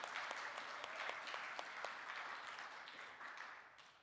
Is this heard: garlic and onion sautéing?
no